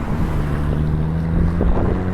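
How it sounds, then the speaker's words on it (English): A passing car's exhaust rumbles steadily with a low, droning tone and rising revs near the end, heard alone without talk. "He's obviously showing off his exhaust."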